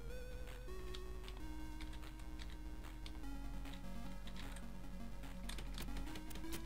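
Keys pressed on a ZX Spectrum keyboard during gameplay, steady clicking under continuous loud game music with bright tonal lines throughout.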